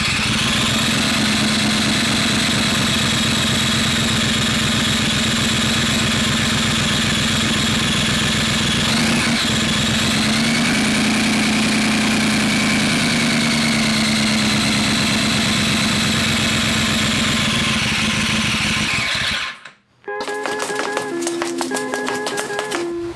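A Honda VFR motorcycle, freshly restarted after eight months of work, idles steadily and loudly right at the exhaust for about twenty seconds before the engine cuts off abruptly and other sounds follow.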